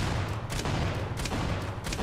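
Automatic weapon fire in Starfield, a steady dense rattle of shots with sharper bursts recurring about every half second, loud and continuous throughout with no talking.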